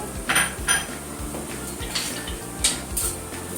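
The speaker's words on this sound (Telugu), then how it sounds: "దీన్ని హై ఫ్లేమ్లో ఫ్రై చేసుకుంటున్నాను" Carrot and capsicum frying on high flame for pasta, with steady metallic clinks and knocks of a utensil against the pan over a low hiss, close and moderately loud, no voices.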